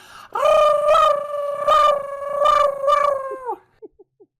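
A person's voice imitates a childhood dog's gargling howl, a single long wavering held note broken by a few pulsing swells, trailing off into short faint yips at the end.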